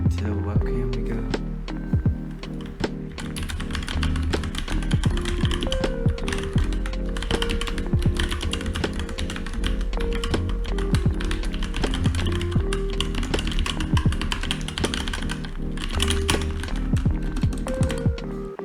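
Typing on a budget Dierya 60% mechanical keyboard with smooth, soft keycaps, a steady run of close, crisp key clacks over about nineteen seconds, with a low background hum underneath.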